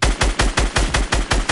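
Rapid automatic gunfire in a shooter video game, about eight sharp evenly spaced shots in quick succession, loud and close with nothing else audible.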